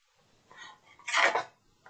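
A plate handled while setting up a homemade cloud-making experiment with warm water gives a short, soft clatter and scrape, quiet and close, with no talk.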